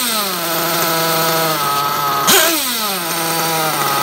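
A nitro RC car engine, the latest OS model, screams at high revs. It holds a steady whine, then surges once in a quick blip of throttle and settles back. The sound is close and loud, and no one talks.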